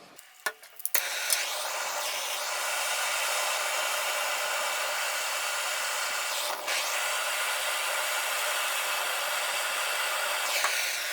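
A torch roars steadily while heating copper dowsing rods before a spot of solder goes on each; a few brief clanks open, then a continuous broadband hiss holds near and loud throughout with a short dip midway.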